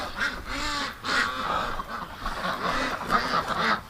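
Ducks quack repeatedly in a noisy, overlapping chorus, loud and close, with no talking.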